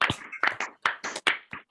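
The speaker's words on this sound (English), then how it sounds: "Maybe we can all unmute and give a suitable round of applause." Scattered clapping from a few participants on an online video call after an evening talk, heard as uneven, close, slightly compressed bursts over under two seconds.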